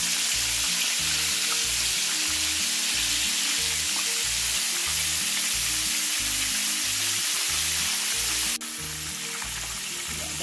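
Food fries in a pan on a home stove with a loud, continuous close sizzle and a rhythmic low thumping underneath, briefly dropping in level near the end, no voices.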